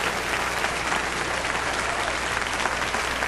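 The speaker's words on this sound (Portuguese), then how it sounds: "Aplauda mais, aplauda mais, aplauda mais." Audience applauding during a church sermon, a dense, continuous wash of clapping at an even, moderate level with no speech over it.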